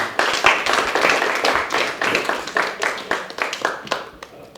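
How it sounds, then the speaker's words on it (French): An audience applauds a violinist at a Paris book presentation, a dense run of close, fairly loud hand claps that keeps going steadily and then thins slightly toward the end. "Je vous demande encore humblement de l'applaudir, s'il vous plaît."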